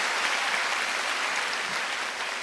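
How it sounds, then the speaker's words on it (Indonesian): Audience applause at a Mata Najwa talk-show event held at UGM, a dense, steady clapping that fills the room at full loudness throughout without pause, with no talking over it. "Tepuk tangan dong Pak Sultan"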